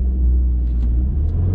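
A 2019 Porsche Macan in sport mode pulls hard from a launch at night, a deep, steady engine rumble filling the cabin throughout the short burst.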